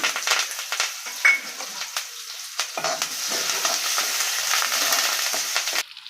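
Steady, crackling sizzle of onion and curry leaves frying in hot oil, with occasional stirring scrapes and brief louder pops, continuous and close.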